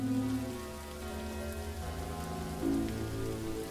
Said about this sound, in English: the clouds become pitch black and soft rain sets in